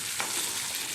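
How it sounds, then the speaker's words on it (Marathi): Cumin seeds dropped into hot oil for a paneer curry base fill the pan with a dense, steady sizzle and frying hiss, close and loud throughout, no talk. "तेल टाकून घेऊ आणि त्यात जिरे पण टाकू"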